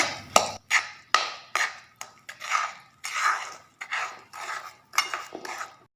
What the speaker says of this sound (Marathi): आणि हे सगळं मी हलवून घेणार आहे चांगलं